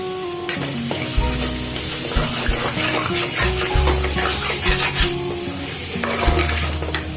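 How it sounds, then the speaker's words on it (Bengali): Ghugni, a pea curry, sautés in a pan with a loud, steady sizzle, under busy, repeated scraping and clinking as a spoon stirs it continuously. "এবার সব নাড়াচাড়া করছি একসাথে, ভালো করে কষিয়ে নেব"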